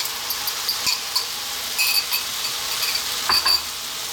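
Beaten egg goes into broken-down tomatoes in a hot pan, giving a bright, steady sizzle with a few sharper crackles and spatter bursts, close up and with no talking.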